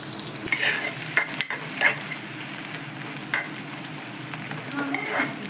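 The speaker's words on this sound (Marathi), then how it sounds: "फक्त दोन मिनिट आपल्याला कांदा परतून घ्यायचा आहे" Chopped onion being sautéed and stirred in a pan, a steady close sizzle broken by scraping stir strokes at irregular intervals, with no talking.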